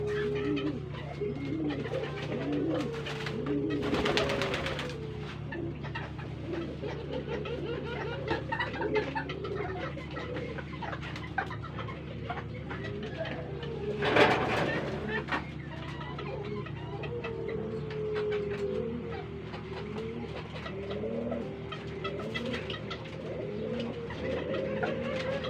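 Pigeons and turtle doves cooing in repeated soft, low rolling calls, fairly close, with a few brief rustles and clatters in between and no talking.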